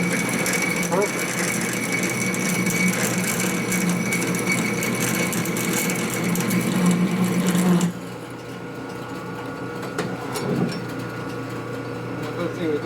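A power drill bores into a 1965 Harley-Davidson panhead four-speed transmission part, a loud continuous whirring grind for about eight seconds before cutting off, leaving a quieter hum with a brief knock.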